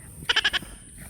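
A farm animal, given as a carabao (water buffalo), gives a short quavering bleat-like call of four rapid pulses, fairly loud and near over steady background hum.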